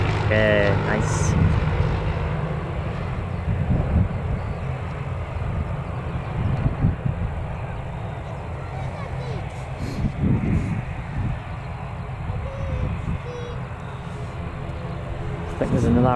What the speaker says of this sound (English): I think there's another aircraft flying overhead